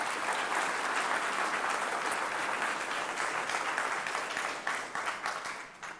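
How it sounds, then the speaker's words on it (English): Sustained audience applause for the candidates at a Mississauga mayoral housing debate, a steady roar of clapping that thins into fewer, separate claps near the end, with no voices. "You can clap for the candidates if you'd like to."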